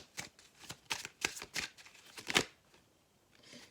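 A deck of oracle cards being shuffled by hand for a reading, heard as a close series of quick riffling bursts that fade to near quiet at the end.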